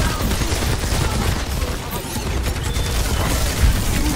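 Video game gunfire rattles in a dense, continuous, loud barrage of overlapping shots and booms, with no clear breaks and a slightly heavier hit near the end.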